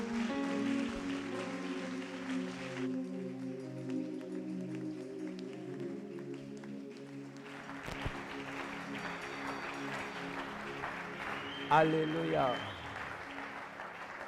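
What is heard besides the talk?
church congregation applauding and cheering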